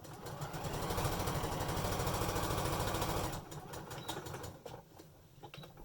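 A sewing machine stitches along the edge of a fabric face mask, a loud, fast, even whirring run that stops abruptly partway through, leaving quieter handling noises.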